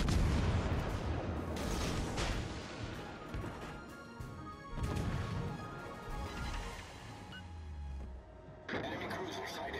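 Warship artillery firing at an enemy warship in the naval game Crazy carry in The Huanghe, with repeated heavy booming salvos and crashing impacts, spaced bursts amid rumbling background and spoken callouts.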